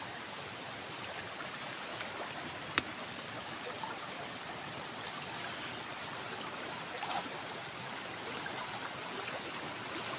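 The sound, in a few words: strong river current flowing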